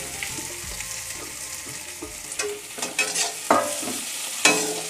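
Potato pieces frying in a pan for samosa filling, stirred with a spoon: a steady sizzle runs throughout, with scraping and clinking utensil strokes growing louder and more frequent toward the end, no voices.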